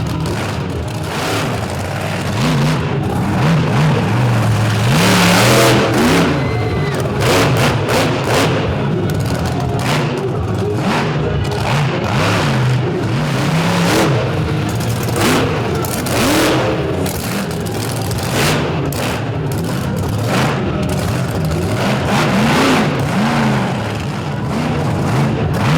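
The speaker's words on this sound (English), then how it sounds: "Cliff about to put a ton of horsepower out of that big Brad Anderson Hemi into this dusty racing surface" Brad Anderson Hemi drag racing engine roaring on a dusty dirt surface in the Shenandoah Valley, a continuous loud revving blast with sharp popping bursts throughout.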